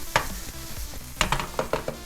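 Onion dropped into a hot frying pan for shakshuka, the Israeli egg dish, giving a few sharp sizzling bursts with stirring clatter between them, close and fairly loud, no talk.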